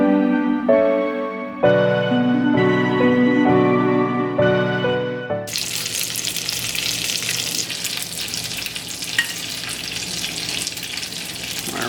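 Food frying in a pan with a steady, loud sizzle, coming in after about five seconds of tonal music and continuing to the end.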